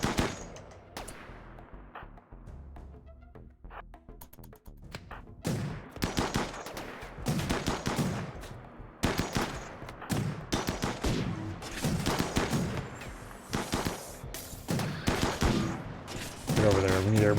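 Video game gunfire: bursts of rapid automatic shots and single cracks, loud and near, coming in clustered volleys through the middle and later stretch, with faint voices underneath.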